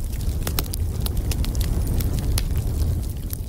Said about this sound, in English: So now I'm gonna get the daytime forest bonfire and drag it into the timeline.